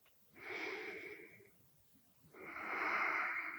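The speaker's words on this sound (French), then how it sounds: "Une dernière respiration." Two long, loud breaths during a yoga class, an inhale then a slow exhale after a short pause, airy and close with no talking over them.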